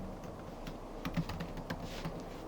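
Fingers type a single search keyword on a computer keyboard, producing a quick, irregular run of close, crisp key clicks with a steady room hum underneath and no voices.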